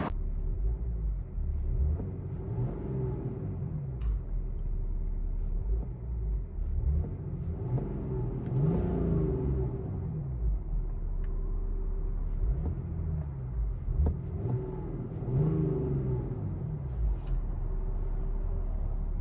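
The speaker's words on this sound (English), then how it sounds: "BMW X5 diesel. Did a muffler delete and it sounds like we didn't do anything" Heard from inside the cabin, a BMW X5 3.5L diesel with straight pipes and a deleted muffler gives a low, muffled rumble under a steady drone, with several mild rev swells rising and falling.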